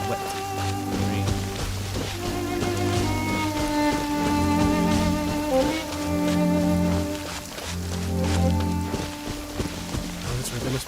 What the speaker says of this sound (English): Must be a wet rain.